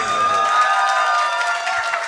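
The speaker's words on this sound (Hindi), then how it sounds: "एक दफा फिर से जरा तालियां आप सबकी होनी चाहिए" An audience at a poetry mushaira in Faisalabad gives a short burst of applause, a broad wash of clapping and crowd noise heard at a distance with a faint hum underneath.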